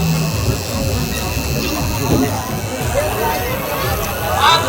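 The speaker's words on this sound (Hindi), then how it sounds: "बहुत ज्यादा भीड़ है।" Dense crowd hubbub at a crowded village fair, a steady wash of many overlapping voices and background bustle, close and continuous with no pauses, with some louder nearby talk mixed in.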